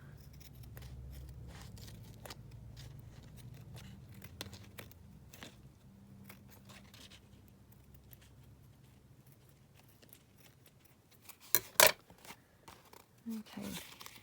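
Scissors cut through craft card in a handful of faint, sharp snips near the end, following a quiet stretch of soft handling noise.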